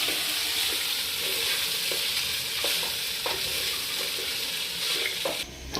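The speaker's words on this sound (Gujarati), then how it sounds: "હવે નાખી દઈએ મકાઈ પછી એને પણ સાથે ડુંગળીને બધાને સાથે મિક્સ કરી દેવાનું છે સરખાઈથી" Fresh corn kernels, onions and spices being stirred in a pan for Gujarati chevdo, giving a steady sizzling, scraping rustle that stays loud and continuous, ending with a brief clatter.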